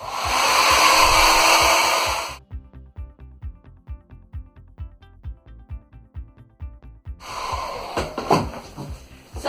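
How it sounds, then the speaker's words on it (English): A hairdryer blows loudly and steadily for about two seconds to dry a paper treasure map, cuts off, and then starts up again for the last couple of seconds, with soft handling knocks in between. "it does need to be pretty dry to be able to draw on it, so I'm going to just use my hairdryer"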